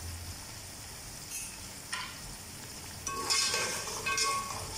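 Whole spices, a bay leaf, a cinnamon piece and black cumin seeds, frying in a pan: a soft, steady sizzle with a few brief crackling bursts and scrapes of stirring.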